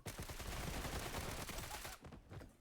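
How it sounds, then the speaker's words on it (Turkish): A knife in a Roblox video game fires off a rapid burst of gunshot sounds, a dense crackling volley that fills most of the moment before cutting off into quieter game noise. "Abi bıçaktan mermi sesi çıkıyor."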